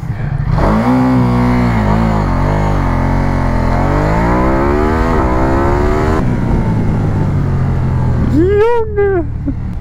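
A Ducati Diavel 1260 S motorcycle launches under launch control, its engine roaring loudly and climbing in pitch through repeated surges, with a brief shift-like drop before another sharp high rev near the end.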